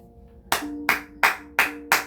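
Five slow, evenly spaced claps at a wedding, sharp and close, with a faint steady background tone underneath.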